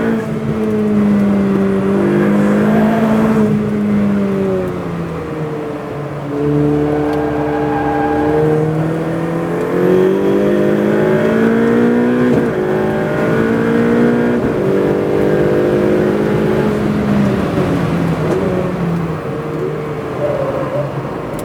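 A Ferrari 488 Pista accelerating hard on a race track, its engine note climbing and dropping through repeated shifts in a loud, continuous run lasting about twenty seconds.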